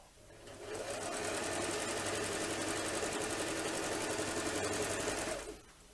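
A sewing machine fitted with a walking foot runs steadily through thick fleece at a stitch length of 3, a fast even whirring hum that starts up, holds for about five seconds, then stops.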